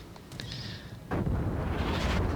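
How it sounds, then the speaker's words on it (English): High-explosive shells fired from a Buffalo cruiser in World of Warships: a faint high whistle, then a heavy rumbling boom of naval gunfire that rolls on to the end, with no talk. "our Buffalo is rightly using HE and shooting their Buffalo in the face"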